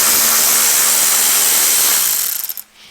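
A power tool running steadily and loudly while it backs screws out of the radiator on a 2006 Chrysler Pacifica 3.5L, a continuous whir that winds down and stops near the end.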